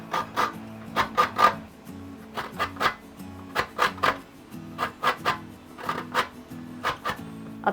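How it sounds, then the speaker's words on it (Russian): Lemon zest scraped on a fine kitchen grater gives a quick series of dry rasping strokes, close and fairly loud, coming in short uneven bursts of two or three with brief pauses between them. No one speaks. "Натираю цедру лимона на мелкой терке."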